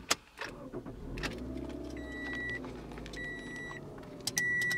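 A 2014 Toyota RAV4 LE AWD starts up close by with clicks and a rising engine rumble that settles into a low idle, while steady electronic chimes ring from the dash.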